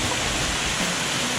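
Steady broadband roar of a waterfall pouring down on a hike around Roatan, continuous and fairly loud with no pauses, like heavy water crashing close by.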